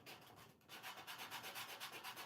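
Rhythmic back-and-forth scratching of a paper sanding block rubbed along a paper edge, close and steady, with strokes repeating about every quarter second after a brief pause.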